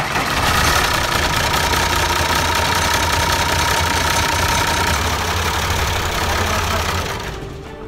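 A 5.7 litre AD E352 turbo diesel engine cranks and churns loudly at close range in a steady mechanical rumble without catching, then fades slightly at the end.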